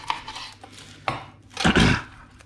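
A kitchen knife slices through a huge white onion on a cutting board, giving a few sharp separate cuts and taps that end in a heavier thunk, close up with no talking.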